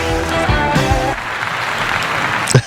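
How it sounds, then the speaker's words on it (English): Studio audience applauding guests on a sports talk show, a brief burst of clapping that follows a voice and fades out, fairly loud and close. "Some applause for both of y'all just for really being here and Hight being on time and us."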